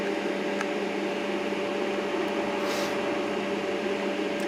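Steady close-up hiss and hum of a Röhr HP-160L TIG welder arc melting metal, a continuous electrical buzz holding even throughout with a faint brief swell near the end.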